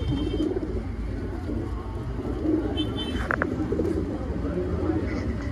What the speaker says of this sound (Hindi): बेहतरीन टॉप क्वालिटी का पंजाबी कबूतर है सारे